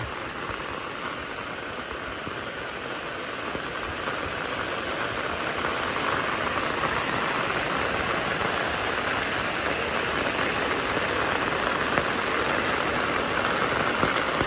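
Steady, dense hiss of rain falling, growing slightly louder over time, with a faint low engine hum underneath and no talking.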